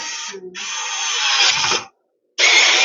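A cordless battery screwdriver drives a screw into plastic thread, a steady close whirring motor that runs for nearly two seconds, stops briefly, then starts again loudly.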